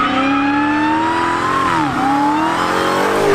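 A 2020 Dodge Charger Hellcat Widebody engine pulls hard and loud from the cabin, its pitch rising steadily, dipping briefly at a gear change, then climbing again.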